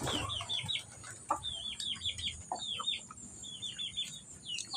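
Chickens cluck in short, choppy bursts of clucks and squawks, several birds close by, with low background murmur.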